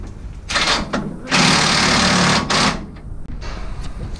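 A power tool rattles and whirs in close bursts while the last bolt on a front shock absorber is tightened, part of fitting 1975 CJ7 Jeep shocks to a 1953 rat rod, with one long sustained run in the middle.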